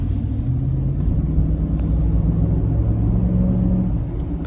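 Ford Super Duty truck with the 7.3-liter gas V8 pulling at about half throttle on a road drive, a steady loud low engine drone and rumble from inside the cab throughout.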